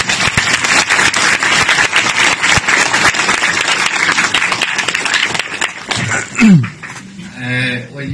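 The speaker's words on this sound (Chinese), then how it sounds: "下面让我们用热烈的掌声欢迎金老师" Dense, steady applause from a lecture audience greeting a guest professor fills most of the span, loud and continuous before thinning out at the end as a voice and room noise take over.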